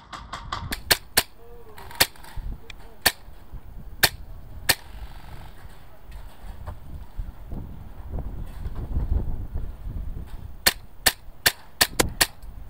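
Airsoft guns fire in sharp single shots during a city domination game, with scattered shots early on and a quicker burst near the end over wind noise and low rumble.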